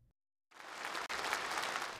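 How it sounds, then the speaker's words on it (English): Resounding applause for Chinese Premier Li Keqiang fills the Great Hall of the People in Beijing, breaking in after a moment of silence and holding as a dense, steady roar of clapping. "It's an announcement that earns resounding applause for Chinese Premier Li Keqiang at Beijing's Great Hall of the People"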